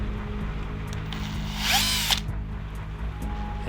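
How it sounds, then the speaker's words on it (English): A power drill whirs close by as it bores holes for the wheels of a clay sausage dog craft, rising in pitch briefly and then settling back to a steady hum. "We need to drill holes to make some working wheels."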